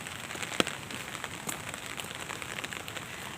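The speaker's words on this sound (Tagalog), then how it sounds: "Ulan talaga siya." Rain falling during a typhoon in Manila, a steady hiss of drops pattering on surfaces with a single sharper tap near the start, moderately loud and continuous with no talking.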